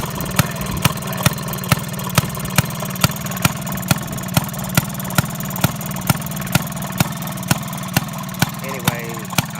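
A Model A Ford engine idles with a steady, even beat of regular thuds about twice a second over a low mechanical rumble, close and loud throughout.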